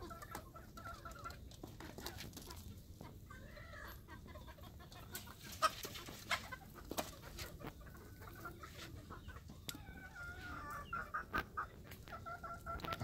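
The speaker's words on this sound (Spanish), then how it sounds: "Aquí tenemos un pollo jabao," Farmyard chickens, a jabao chicken and a rooster, clucking on and off over low background noise, with scattered close pecks and rustles and a few louder calls, and no voices.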